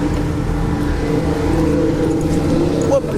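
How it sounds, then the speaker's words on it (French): Porsche race car engines warming up at Le Mans rumble in a low, steady idle with a continuous throbbing drone, while people talk nearby over the noise. "les moteurs chauffent"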